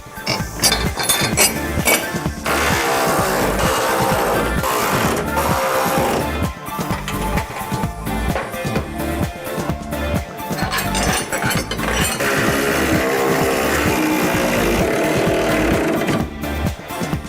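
40 mm bolts are fastened on a kei truck roof carrier, heard as steady close metallic ratcheting and clinking that runs almost continuously and loudly, with no talk.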